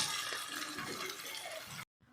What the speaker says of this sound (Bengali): এবার দিয়ে দিলাম জল, জলটা একটু পরিমাণে বেশি দিলাম